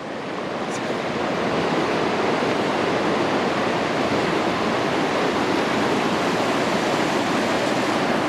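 The San Gabriel River running swollen after recent rains: a dense, continuous rushing roar of fast water, loud and close, with no talking.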